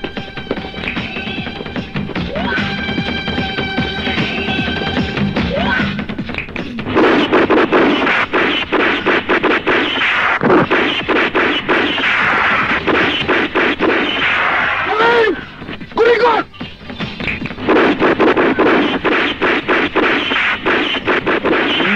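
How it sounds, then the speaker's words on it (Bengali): Sharp bangs and bursts of gunfire crackle through a loud, dense action scene from the Bangla film Bortoman, with shouting voices and dramatic sound throughout. "গুলি করছে"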